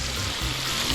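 Sambal stir-fried in a pan, a loud, dense sizzle with a brief stirring scrape partway through.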